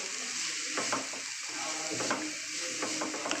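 Shredded cabbage frying in oil while being stirred, a soft, steady sizzle with repeated clicking, scraping strokes of a utensil against the pan.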